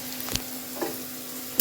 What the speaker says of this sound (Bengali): আর ওই সবজি দিয়ে আর একটু ঘি দিয়ে দেবো, এই যে দিয়ে আর ভাত ফ্রাই করে নেবো